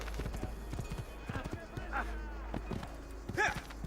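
Horse hooves clip-clopping at a gallop in Assassin's Creed 2, a steady rapid rhythm of close thuds running through the whole stretch, with a brief whinny-like cry near the end and a voice talking over it.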